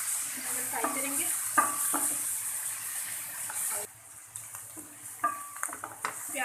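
Onions fry in a pan, a hissing sizzle broken by clattering utensil scrapes and knocks as they are stirred, fairly close, with the frying dropping back partway through.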